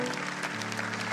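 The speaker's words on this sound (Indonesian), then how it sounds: "berikan tepuk tangan untuk Tuhan Yesus." Church congregation applauding after worship songs, a dense, continuous wash of clapping filling the whole moment at moderate distance, with a steady music or organ tone held underneath.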